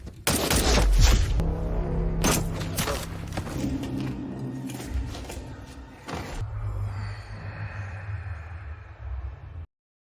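Film gunfire sounds as a character is shot while leaving a room, a loud, dense burst of booming shots and thuds over a dramatic score that later thins into lower rumbling.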